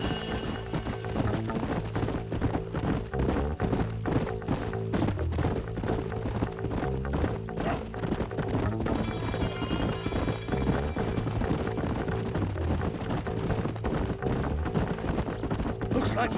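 Horse hooves clip-clopping at a steady run in the Red Dead Redemption video game, with dense continuous rhythmic hoofbeats layered over background music and a voice talking.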